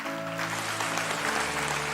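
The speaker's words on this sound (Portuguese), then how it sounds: "Dê o melhor aplauso, você pode dar a Deus." A church congregation applauds during a service, steady clapping heard over a sustained musical hum, moderately loud throughout.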